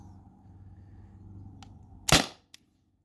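An air pistol, a modified T4E TR50 or Beeman BP50, fired through a chronograph: a faint hum, then one sharp loud crack with a short ring and a small click after it.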